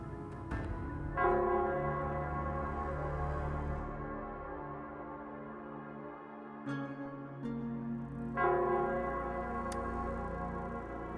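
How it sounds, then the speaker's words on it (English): A town bell in the Wuthering Waves video game rings with rich, sustained harmonic tones, and fresh strikes swell the sound several times over lingering resonance. "it's the Nell Squares bell."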